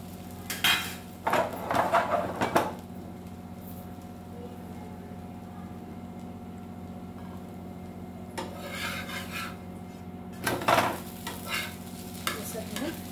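Batter for an onion and tomato uttapam cooking on a hot pan, a low steady sizzle broken by a few bursts of scraping and rubbing as a utensil works the pan, with no talking.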